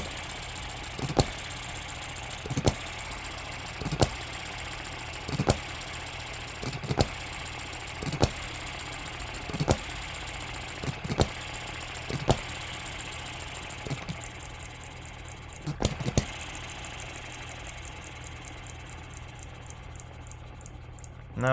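A small Eachine ET6 model engine runs steadily and too fast, a continuous buzzing drone with sharp periodic clicks or knocks about every one and a half seconds, heard alone without talk.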